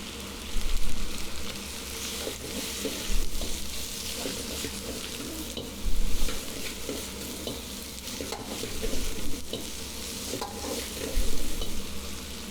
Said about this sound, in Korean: 일단 반 정도를 넣고 이제 웍질을 합니다